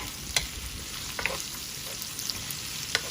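Crushed garlic frying in a pan for a noodle gravy dish, making a low constant sizzle broken by a few sharp spatula clicks and scrapes.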